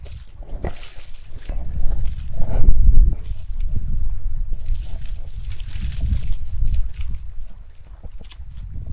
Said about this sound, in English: Let's give Mr. Brook Trout a quick little